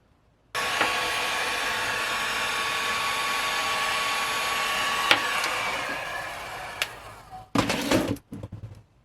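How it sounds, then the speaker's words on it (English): A heat gun shrinks heat-shrink tubing onto a wire during a lightsaber sound-board upgrade, starting abruptly with a loud, steady blowing whoosh that sustains for about seven seconds, then cuts out, followed by a few short handling knocks. "then a little bit of heat gun, and that should look pretty fantastic"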